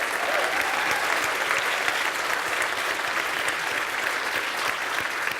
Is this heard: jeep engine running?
no